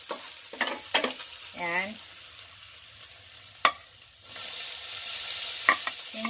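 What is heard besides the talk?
chicken gizzards frying and sizzling in a pan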